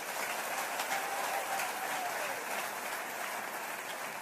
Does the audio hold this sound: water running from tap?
no